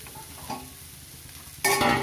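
Spring onion stalks fry in a pan with a soft, steady sizzle and a light stir, then chopped chickpea greens go in and set off a loud, sudden burst of sizzling.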